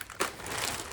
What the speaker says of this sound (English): we just gonna throw everything into this plastic bag